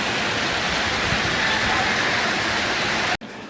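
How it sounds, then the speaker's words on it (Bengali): Steady rain falls in a thick, even wash of hissing noise, close and loud, before cutting off abruptly near the end to a much quieter background. "এখন এই যে বৃষ্টি হইতেছে,"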